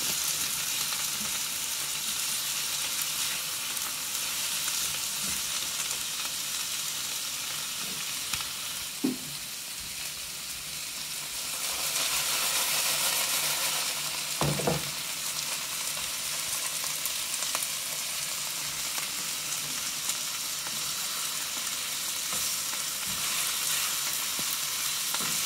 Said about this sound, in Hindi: मैंने भिंडियों की फ्लेम मीडियम लो पे कर दिया ताकि ये अच्छी तरह फ्राई हो जाए